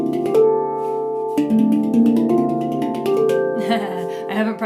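A handpan played in a fast triangle run, alternating hands with no gaps between strikes, sped up into a rapid cascade of ringing metallic tones that sound alone and fairly loud.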